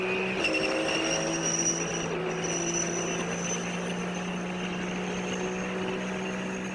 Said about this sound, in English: And we're on board with the Need for Speed Porsche, the 997 Super Cup.